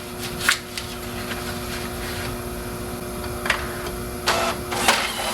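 An old printer runs its mechanism with a steady mechanical hum and whir, broken by a few brief clicks and clunks close by, with no talk.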